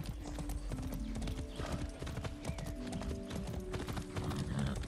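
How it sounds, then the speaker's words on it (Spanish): Horse hooves clip-clop at a brisk, rhythmic gallop in the Far Cry 6 video game, close and continuous, with a whinny and neighing mixed in over game ambience. "no me subo a un caballo desde el entrenamiento"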